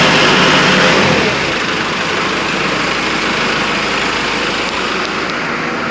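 Kubota MX5200 tractor engine running at about 1500 RPM, a loud, steady broadband drone with a low rumble that dips slightly after the first second, no speech.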